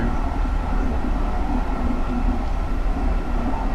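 A SEPTA GE Silverliner IV train running on the Trenton Line making local stops, a continuous heavy rumble and roar of the moving railcar heard from inside, steady and loud throughout.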